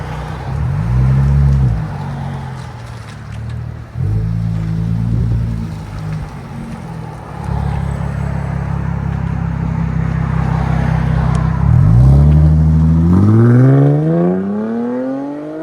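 2017 Jaguar F-Pace 3.0L supercharged V6 with Dynomax Bullets exhaust, loud nearby revs that climb and fall in several bursts, then a sustained high rev with supercharger whine and a long drop back to idle.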